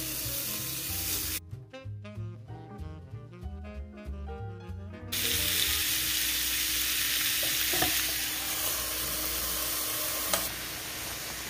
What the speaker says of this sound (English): bacon cooks up so quick on the George Foreman, even when it's the thick stuff like this